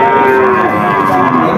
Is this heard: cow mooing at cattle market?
yes